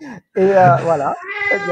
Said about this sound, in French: C'est mon chat qui vient, qui ne comprend pas l'analyse transactionnelle.